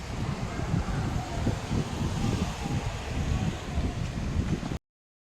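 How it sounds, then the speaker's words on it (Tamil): Strong wind at a Murugan temple rumbles and roars against the microphone without pause, a low, dense rushing noise that cuts off abruptly at the end. "காற்று செம்மையாக வீசிகிட்ருக்கு இந்த இடத்துல"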